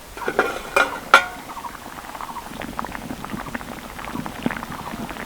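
A covered pot of vegetables simmering, with the lid lifted: a couple of sharp metallic lid clanks up front, then a soft, close bubbling patter of the simmer running on alone.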